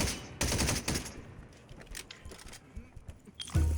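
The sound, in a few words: gunfire while shooting from a ledge, video game Hawked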